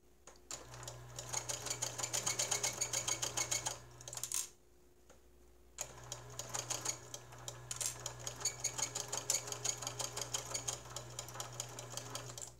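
A sewing machine stitches through many thick layers of cloth mask fabric, a steady close rapid mechanical chatter in two long runs separated by a brief pause, with no talking.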